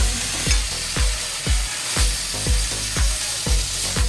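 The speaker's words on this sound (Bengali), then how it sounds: "এবার একটু মশলাটা কষবে" Spice masala being sautéed in a pan for a cauliflower dish cooked in milk, with a steady frying sizzle and regular spatula scrapes about every half second, close and fairly loud.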